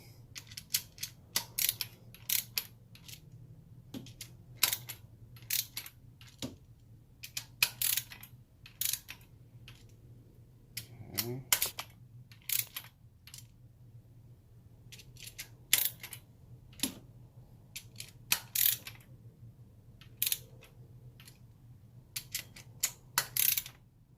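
A torque wrench ratchets in repeated quick bursts of clicks while tightening valve cover bolts to 80 inch-pounds on a 2014 Toyota Tacoma PreRunner V6, close and crisp against a quiet garage.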